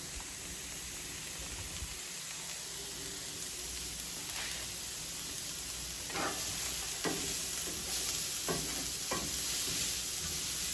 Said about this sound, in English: I'm going to continue sauteing these over medium heat